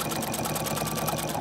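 A sewing machine runs steadily, stitching binding onto a quilt with a fast, even, continuous whir of needle strokes throughout, close and fairly loud.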